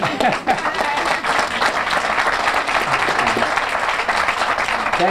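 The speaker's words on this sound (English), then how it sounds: "I appreciate that applause." Audience applause fills a room at a civic gathering, steady and loud throughout with dense overlapping clapping, a few louder claps standing out early.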